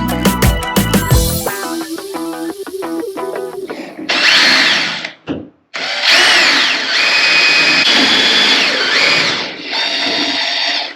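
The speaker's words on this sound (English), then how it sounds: "So I'm going to start drilling these holes." A power drill bores holes through the composite wall of an expedition camper, a loud close whine that rises and holds, cuts out briefly, then resumes in long sustained runs, with no talking.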